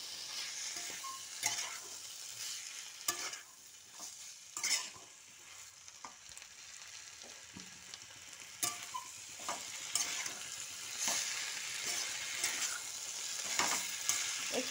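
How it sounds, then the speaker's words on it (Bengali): Vegetables frying with salt and turmeric, stirred in a pan: a soft steady sizzle with repeated spatula scrapes and knocks throughout, fairly quiet and close. "পরিমাণ মতন আমি নুন হলুদ দিয়ে এবার নাড়িয়ে নিলাম।"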